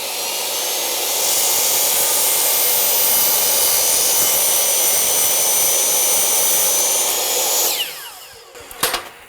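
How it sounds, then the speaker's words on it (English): Power saw cutting hardwood flooring during a DIY floor install: a loud, steady high whine runs for several seconds, then cuts off and winds down, followed by a few sharp clicks. "Always get it up to full speed before you make contact with the wood, especially hardwood."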